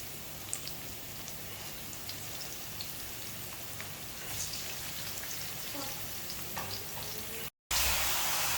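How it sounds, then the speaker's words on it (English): Mushrooms fry in a pan with a steady, close hiss and crackle that runs throughout, a few faint clicks mixed in, and the sound cuts out briefly near the end. "Let the mushroom cook for a while"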